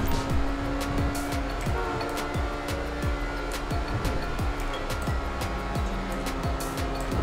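Heavily tuned car in GTA Online accelerating hard through a city toward 140, steady engine roar with repeated sharp gear-shift sweeps and tire noise, close and continuous throughout.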